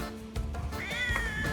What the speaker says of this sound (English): there are hungry stray cats everywhere, all looking for a free feed